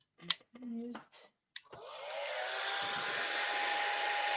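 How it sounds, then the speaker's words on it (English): Brief speech and rustling come first, then a hair dryer switches on and blows with a steady, loud whooshing roar and a faint high whine, running continuously to the end. "I'm gonna mute my mic just for a moment while I do the old hairdryer thingamajiggy."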